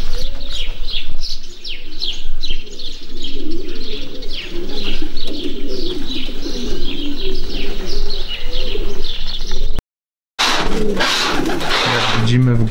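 Young racing pigeons coo and chirp steadily inside a naturally raised loft, with overlapping calls and soft wing flutters, a brief gap and then louder cooing near the end.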